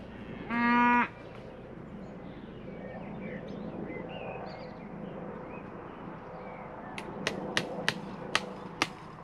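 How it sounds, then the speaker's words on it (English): A single loud, close cow moo sounds briefly at the start, then a farm fence under repair gives way to sharp hammer strikes on staples in a quick series near the end, with no talk. "Cattle are trying to get through the fence at me."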